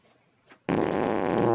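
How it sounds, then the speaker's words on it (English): A single loud, close fart bursts in after a brief near-silence and rumbles on steadily to the end. "Ah, who farted?"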